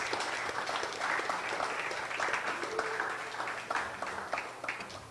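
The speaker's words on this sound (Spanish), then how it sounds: "Denle un fuerte aplauso a nuestro Dios" A church congregation applauds during a service, a steady, faint wash of many hands clapping with occasional louder individual claps standing out, continuing evenly for several seconds.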